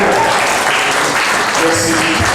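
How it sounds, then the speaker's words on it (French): Audience applause at a French-language book launch, steady and loud throughout, with faint voices mixed in near the end. "sous nos acclamations"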